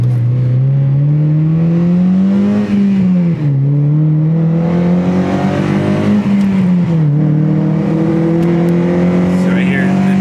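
A 2015 Honda Civic Si engine pulls under heavy throttle with the pedal nearly floored, droning loud and close inside the cabin. The pitch climbs gradually, dips briefly twice as if between gears, then keeps rising.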